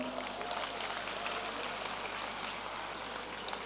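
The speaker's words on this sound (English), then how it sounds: "If you're happy for him, please clap for him" A conference audience applauds a prize winner with a dense, steady wash of clapping that holds evenly for a few seconds.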